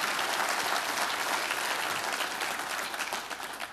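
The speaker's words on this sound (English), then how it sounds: "I always get nervous when people clap" An audience applauds a speaker at a smart grid talk, steady dense clapping from a crowd that stays full throughout and tapers a little toward the end.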